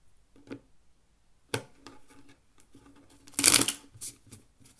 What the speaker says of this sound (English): Now I'll do one last shuffle.